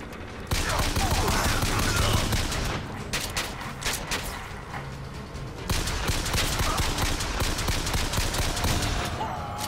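Bursts of rapid gunfire from the shooter game Bioshock Infinite, loud and dense in two long volleys separated by a brief lull, with a player speaking faintly underneath.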